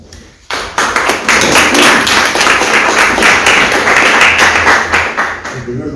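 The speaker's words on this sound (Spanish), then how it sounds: "Por favor, un fuerte aplauso." Sustained audience applause for a professor being introduced at a Bolívar and Mariátegui conference at Casa Mariátegui, starting abruptly with dense, loud clapping that holds steady for several seconds.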